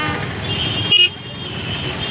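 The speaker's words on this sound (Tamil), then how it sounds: "டிராஃபிக்கை பார்த்துக்கங்க." Dense road traffic in a crowded street at Thiruparankundram during a festival gathering, with a steady engine rumble, one short car horn honk near the middle, and a busy crowd murmur throughout.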